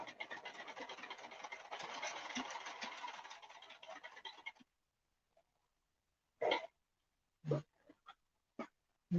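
A sewing machine stitches fabric for scrunchies, whirring in a steady, fairly quiet run for about four and a half seconds before stopping, followed by a few short, sharp knocks amid silence.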